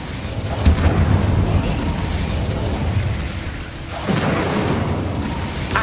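Incendio fire spell blasts in the video game Hogwarts Legacy, two loud booming bursts a few seconds apart with rumbling fiery roar between them, with faint voices underneath.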